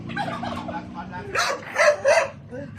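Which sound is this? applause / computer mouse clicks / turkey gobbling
turkey gobbling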